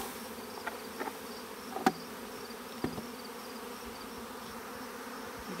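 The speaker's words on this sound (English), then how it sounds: "to walk those bees back into their hive" Honey bees drone in a steady, faint hum around an opened hive, with a few soft clicks and knocks from handling frames, close by and without talk.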